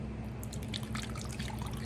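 Rice vinegar poured into a measuring spoon, a brief close liquid trickle and drip running continuously for about two seconds without talk.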